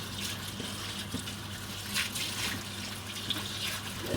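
Water runs steadily in a fibre mill while fleece is washed, a faint, continuous splashing rush with a few small gurgles and drips.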